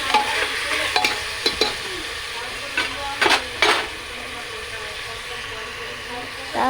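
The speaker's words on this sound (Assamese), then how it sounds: "লৰাই ভাজি আছোঁ।" Pieces of potato and pork are stirred and fried in a pan, a soft sizzle broken by scattered scraping clinks of a spatula on the pan.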